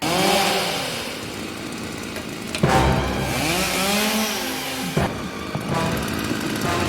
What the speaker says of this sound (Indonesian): ia malah mengambil gergaji mesin dan berniat memotong tubuh Paxton